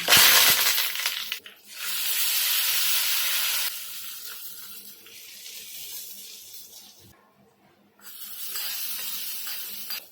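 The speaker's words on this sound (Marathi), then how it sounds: "थोडी राई टाकायची आणि सफेद तीळ आहे हे टाकू थोडी आणि त्याचबरोबर कढीपत्ता आहे आपण टाकूया" Mustard seeds, cumin, white sesame and curry leaves hiss and sizzle in hot tempering oil, loud and broadband at first, then easing to a softer crackle that pauses briefly before resuming.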